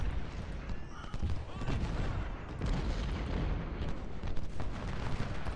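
Civil War artillery guns firing at Fort Stevens in the strategy game Ultimate General: Civil War: heavy booms rolling over a dense, continuous battlefield rumble, with several distinct thuds rising out of the din.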